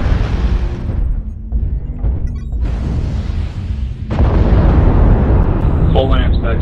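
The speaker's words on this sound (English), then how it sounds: "Airstrike activated." Airstrike explosions in a combat video game: heavy, rumbling blasts roll one after another, with a sharp new burst near the middle that swells into a sustained, loud roar, with game voices faintly mixed in.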